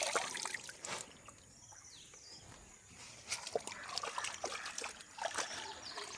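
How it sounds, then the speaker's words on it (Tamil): Water trickles and splashes softly while leafy greens are rinsed in a rural village garden, with small splatters and drips recurring irregularly at close range over faint background noise. "இப்போ கீரையும் கழுவி எடுத்துட்டோம்."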